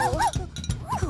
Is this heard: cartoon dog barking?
yes